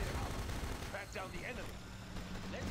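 Minigun infantry firing in Command and Conquer Generals: rapid rattling gunfire rolls under a dense game soundscape, fairly faint and continuous across the stretch.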